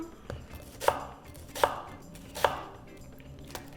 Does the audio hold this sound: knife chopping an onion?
yes